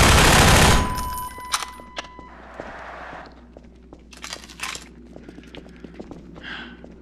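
An ally fires in Half-Life 2, opening with a loud, dense burst of gunfire. Scattered single shots, clatter and brief noise bursts follow at varying distances, with footstep-like taps in between.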